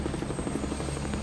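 A helicopter during the Hurricane Katrina evacuation, heard as a steady, loud rotor thump and engine drone that fill the whole short stretch without pause, with no voices over it.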